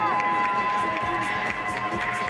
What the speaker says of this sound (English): Cheer him home.